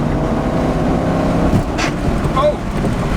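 A C5 Supra with a T56 manual transmission shifted past 4,000 RPM: a steady loud engine and drivetrain roar throughout, with a brief harsh transient near the middle and a short whine toward the end.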